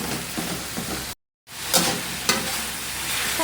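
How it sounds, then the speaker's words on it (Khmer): Pork sizzles in a hot pan while being stirred, giving a steady frying crackle with scraping stir strokes. There is a brief silent gap early on, then the sizzling resumes. "ដល់មកយើងចាក់សាច់ជ្រូកចូលឆ្អិនសិន"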